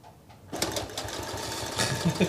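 A sewing machine runs along fabric seams, a close, steady motor whir with quick needle chatter that starts after a brief quiet moment and continues to the end, with a faint voice in the background.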